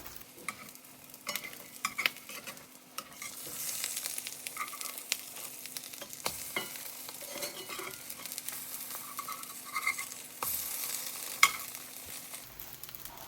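French toast slices crisping in a pan make a soft, quiet sizzle, broken by light scrapes and taps of a spatula at irregular moments, with no voices present.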